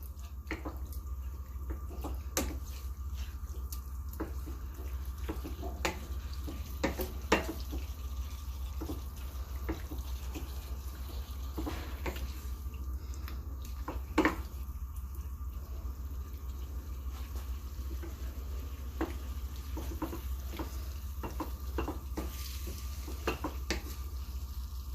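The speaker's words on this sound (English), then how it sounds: "Get it sizzling now." Liver stew sizzles and bubbles constantly at a low level in a pot, broken by scattered clinks and scrapes of stirring, with no talking.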